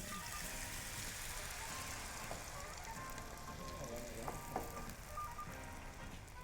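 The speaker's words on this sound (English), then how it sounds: "So give it another stir to make sure that all the heat is evenly distributed." Kimchi fries in a hot pan while being stirred, producing a faint, steady crackling sizzle with a few soft clicks of the utensil, all at low volume.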